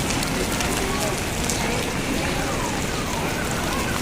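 Heavy rain pours down continuously during flooding on EDSA, a dense, steady hiss of drops hitting surfaces, loud and unbroken throughout.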